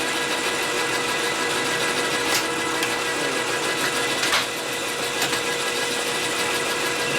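A lathe in a workshop runs with a steady whirring mechanical drone during a Harley knucklehead motor rebuild, with a few faint knocks over the continuous hum and no talking.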